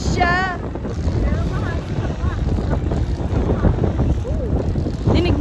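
Steady wind gusting across the microphone near a long Tibetan bridge in Sellano, with a boat's engine rumbling underneath, a few people chattering in the background, and light drizzle falling.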